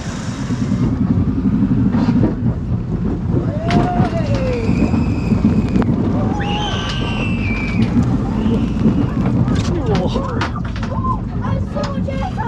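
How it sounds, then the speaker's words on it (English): Heavy November rain pours steadily at Blackpool Pleasure Beach with blustery wind gusting across the microphone, a constant dense roar throughout with occasional brief tonal sounds and voices in the background. "Absolutely chucking it down, windy, miserable."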